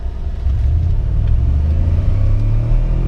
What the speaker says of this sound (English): Oh, tire spin.